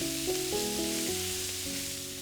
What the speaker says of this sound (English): We simply heat our pan, drizzle a touch of healthy fat, and a quick saute to warm and sear our already slow braised beef